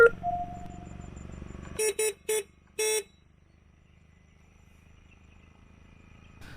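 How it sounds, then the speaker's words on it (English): Ola S1 electric scooter horn: four short, loud bursts in quick succession (three close together, then one slightly longer) over quiet background hum, with a faint electronic tone beforehand. "And this is how the horn sounds."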